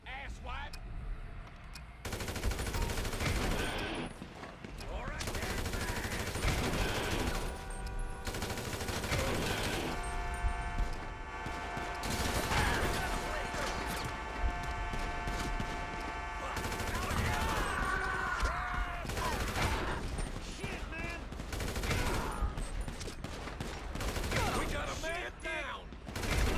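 Gunfire in Grand Theft Auto 5, with sustained bursts and rapid shots throughout, loud and dense, mixed with shouting voices and other game sounds.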